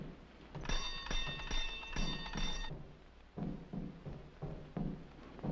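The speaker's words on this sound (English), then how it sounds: "You ring the bell." A bell rings in bursts of bright, sustained tones over the first half in a 1941 film scene, mixed with thuds and clattering knocks that continue afterward.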